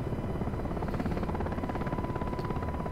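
UH-60L Black Hawk helicopter flying in the flight simulator DCS World, a steady, loud rotor thump with a dense engine drone and a faint whine, continuous and close.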